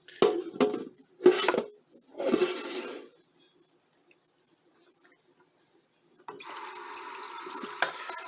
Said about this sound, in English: Now we're going to fill it up, the pitcher, by pouring water over the tea bag.